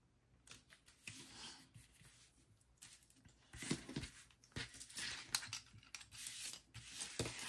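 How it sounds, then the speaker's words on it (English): Pages of a sticker book being flipped during a planner session, a run of quiet, close rustles and papery flaps that come in irregular bursts and get somewhat louder toward the end. "Flipping the page."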